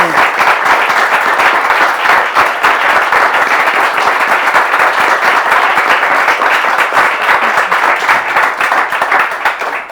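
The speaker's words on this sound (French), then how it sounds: "Là, ce sera des applaudissements pour elle, Christiane." Loud, steady applause from a television studio audience encouraging a guest named Christiane, dense clapping that continues evenly for the full ten seconds with no voices over it.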